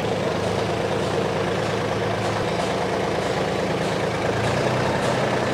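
A Mahindra OJA tractor engine runs steadily at idle, a dense, continuous low rumble with a constant loud drone and no speech over it.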